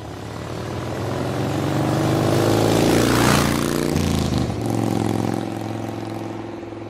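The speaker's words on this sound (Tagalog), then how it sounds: "bibilisan ko ang pagpapatakbo ng motor" A motorcycle engine revs up and speeds away, loud and close, rising to a peak midway before easing into a steady drone as a dramatized sound effect.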